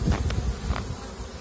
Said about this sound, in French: il y a des abeilles qui battent le rappel